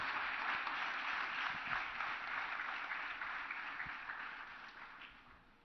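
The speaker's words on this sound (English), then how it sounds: "Now a big applause." Sustained audience applause during a visit by the President of India to an educational society, a steady crowd of hands clapping at moderate level that gradually fades toward the end, with no talking.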